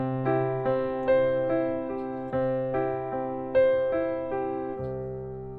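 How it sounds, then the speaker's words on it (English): Solo pop piano in 6/8 with a broken-chord figure opening each bar, then repeated chord strikes in a steady lilting rhythm, close and clear with notes decaying between hits and no talk. "Pattern number 9 is using a little bit of the broken chord idea,"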